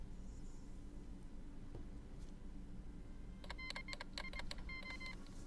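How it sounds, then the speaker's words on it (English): Repeated electronic beeps during a Hearts of Iron IV game session, several quick bursts of tonal beeps in the second half over a faint low hum, quiet overall. "Four rounds of beeps now?"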